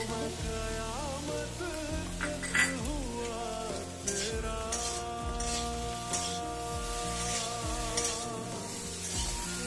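Oil sizzles steadily in a pan while bethe saag with eggplant cooks, a continuous close frying hiss with occasional stirring and utensil scrapes throughout.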